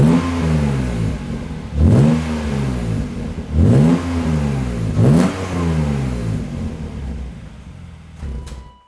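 A BMW M3 with an S52 engine and an active exhaust revs hard four times in a row. Each rise is loud and close, with a rising whine, and the engine settles to idle before it cuts off at the end.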